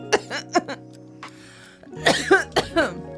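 Someone coughs several times in short bursts, pauses, then breaks into another harsh run of coughing and throat clearing up close.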